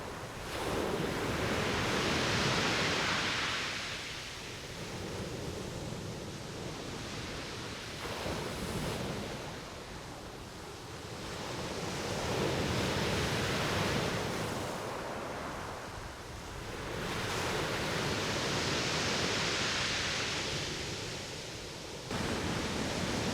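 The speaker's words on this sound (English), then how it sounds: "we're going to go down to the seafront" Steady roar of sea waves surging and breaking in slow swells at a seafront, with wind rushing over the microphone throughout; no voices.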